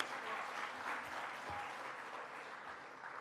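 Audience applause at a Cherokee speaker summit, a dense steady wash of clapping from a crowd, moderately loud and continuous throughout with no talking over it.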